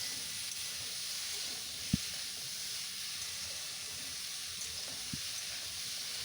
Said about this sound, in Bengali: গ্যাসের ফ্লেমটা কিন্তু লোতে রেখে আমি এটাকে নাড়াচাড়া করে নিচ্ছি